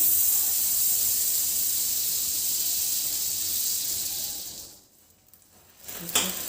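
Butter sizzling on a hot tawa griddle while a veg cheese sandwich is toasted, a steady loud hiss that drops away briefly near the end before a small clatter.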